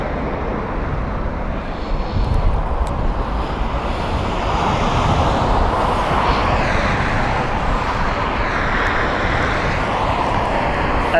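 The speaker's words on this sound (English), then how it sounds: "number 787 here from British Airways" A British Airways Boeing 787 airliner at Heathrow gives a steady, broad engine roar that holds at a constant loud level throughout, with no voices.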